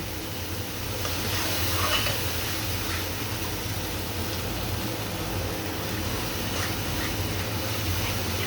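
Spice masala frying steadily in a pan, a continuous close sizzle with occasional faint stirring scrapes, no voices.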